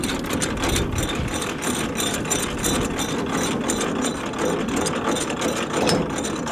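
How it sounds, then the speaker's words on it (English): An automatic trailer coupler's latch rises and engages with a dense, continuous metallic ratcheting and clicking at close range. A low mechanical rumble runs underneath throughout. "You seen the latch come up. It'll latch on there and it won't come off until you pull the latch back down."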